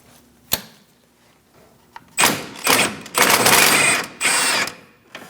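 A sway bar link nut on a 2000-2006 Mini Cooper is spun off with a tool, giving bursts of rapid close mechanical whirring and clicking separated by short pauses.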